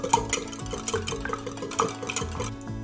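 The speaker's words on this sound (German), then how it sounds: "Gut miteinander vermischen." A spoon or whisk stirs raw egg mixed with pepper, salt and sesame oil in a bowl, giving close, steady clinking and scraping strokes without any talk.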